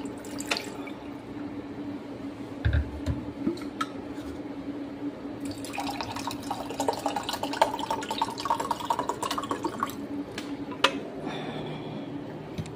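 Tap water runs steadily into a sink, a close, continuous splashing stream with occasional drips and light clatter of handling.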